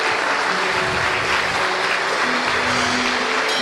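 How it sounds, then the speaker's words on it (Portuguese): A church congregation claps in praise to the Lord during a service, a continuous, even spread of applause from many people, moderately loud and unbroken across a few seconds with faint tonal hum beneath. "Podemos aplaudir o Senhor"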